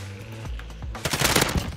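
A quick burst of rapid AS Val rifle shots in a video game, loud and close, cracking over a faint musical backdrop.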